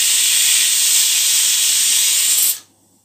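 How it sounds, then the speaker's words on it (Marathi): Pressure cooker whistle on a gas stove over a medium-to-high flame, a loud continuous hiss of escaping steam lasting a couple of seconds before cutting off sharply. "ह्याला शिट्टी देऊन घेऊया 4 ते 5. गॅसवर हा कुकर आपण ठेवलेला आहे."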